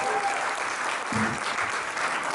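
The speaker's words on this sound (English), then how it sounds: "Another big, massive round of applause for the amazing game show." Audience applause at a Guru Poornima gathering after a game show, a steady wash of clapping from a crowd, moderately loud and continuous throughout.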